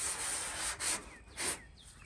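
Rhythmic rubbing strokes of sanding across a car body panel, smoothing a long scrubbed line before paint, close and steady with brief louder passes.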